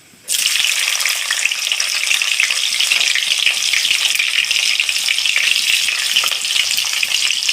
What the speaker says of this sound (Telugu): ఇప్పుడు ఎర్రగడ్డ ముక్కలు వేసుకున్నాం ఫ్రెండ్స్, కట్ చేసుకున్నాయి తిరగమాతకి